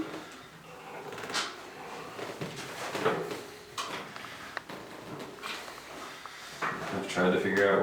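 A squeaky chiropractic adjustment table creaks and clunks repeatedly during a back treatment, with short scraping squeaks and knocks scattered under close conversational speech.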